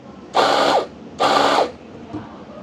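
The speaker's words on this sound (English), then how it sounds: "obviously we are grinding a little bit finer" Fiorenzato Allground coffee grinder grinding coffee beans in two short bursts of loud, whirring motor noise, each under a second, separated by a brief pause, with no talking.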